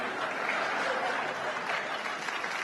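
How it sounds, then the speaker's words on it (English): Audience applause fills a comedy stand-up venue, a dense, steady wash of clapping sustained throughout at full loudness without pause. "No, don't applaud that."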